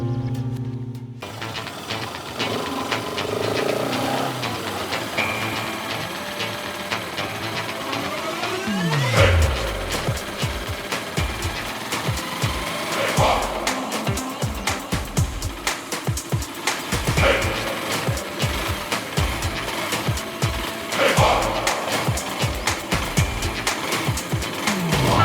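A motorbike engine runs steadily on the road, a low hum that surges with rev bursts partway through and keeps going, loud and close, with no talking.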